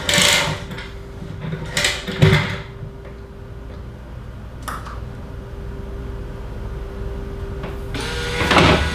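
An auction-bought machine with a dollar bill acceptor, just plugged in, runs with a steady low mechanical hum, with several short whirring and clunking bursts near the start, middle and end.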